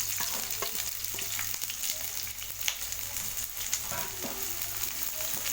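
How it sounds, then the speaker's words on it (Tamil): Sliced onion sizzles in hot oil over a medium flame for Kerala chicken biryani, a steady close crackling hiss broken by occasional stirring scrapes, with no talking. "வெங்காயம் லேசாக வதங்கட்டுங்க."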